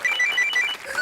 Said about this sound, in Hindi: चंकी पांडे साहब का फोन आया।